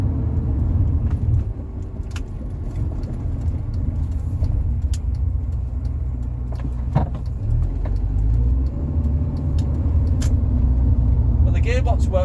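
A Rover 45 car with a CVT gearbox pulls away from a stop and drives on, its steady engine and road rumble filling the cabin while a voice talks over it.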